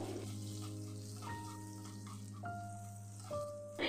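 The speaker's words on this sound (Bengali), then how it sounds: "ততক্ষণ আমি আদাটাকে ভেজে নিচ্ছি লো ফ্লেমে" Grated ginger fries gently in a pan over a low flame, making a soft, steady sizzle under a constant hum, with a few faint clinks and tonal kitchen sounds.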